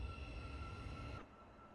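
A Class 717 electric train departing in a train simulator game, a steady rumbling motor drone with sustained whining tones that cuts off abruptly partway, leaving a faint hum.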